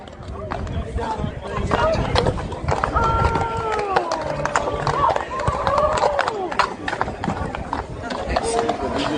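Horse hooves clopping in a steady rhythm amid busy outdoor noise, with people talking over it and a brief whinny-like cry.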